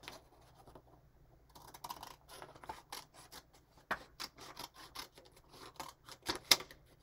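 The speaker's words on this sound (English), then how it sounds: "And now I'm going to cut" Scissors cut a line to the middle of a sheet of paper for a paper whirlybird, a run of close, crisp snips and rustles, sparse at first and then quicker and denser, with no voices.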